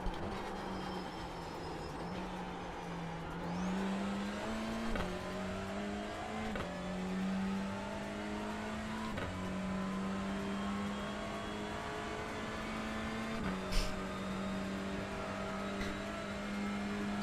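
A touring car engine at Oulton Park in the iRacing sim drones steadily, pitch climbing through each gear then dropping sharply at the upshifts, repeated several times, with a brief tyre squeal near the end.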